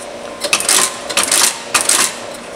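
A Bostitch No. 2 foot-operated saddle stitcher, set up for saddle stitching, fires three loud, sharp mechanical stapling bursts in an even rhythm, close up with no talk.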